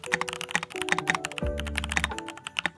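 Typing on a Keychron mechanical keyboard with tactile switches: a dense, close run of crisp key clacks with a few heavier thocks, steady and uninterrupted throughout.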